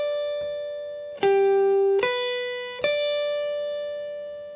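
Clean jazz guitar notes are picked one at a time, triad chord tones in a slow ascending pattern, each ringing clearly and sustaining into the next.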